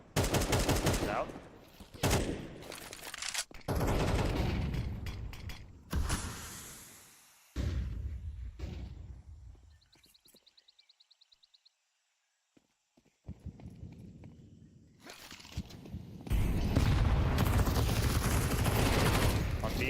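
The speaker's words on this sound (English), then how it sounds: "The Mac 10 from Griller. The MP9 of Griller." Mac 10 and MP9 submachine guns fire in bursts during a professional Counter-Strike match, loud and rapid, mixed with other game sounds and a brief quiet gap midway.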